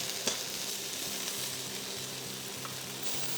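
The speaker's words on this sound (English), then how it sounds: "you should be able to smell the spices that are frying in the pot" Spices and potatoes fry in a pot for a one-pot chicken stew, giving a steady, soft sizzle with a few faint pops and a low tonal hum underneath.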